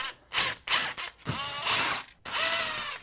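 Bursts of a power driver or ratcheting tool backing screws out of the top of a window air conditioner, several separate whirring pulls with short pauses, loud and close.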